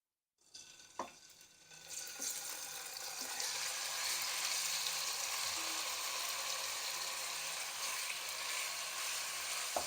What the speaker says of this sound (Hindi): वापस उसी कढ़ाई में मैंने 3 टेबलस्पून ऑयल डाला है। अब चिकन को फ्राई करेंगे।